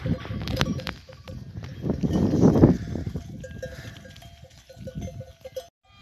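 A flock of sheep on a Turkish highland pasture, with bells clanking and ringing irregularly, scattered hoof and footstep sounds, and a louder shuffling burst midway as the animals move close by.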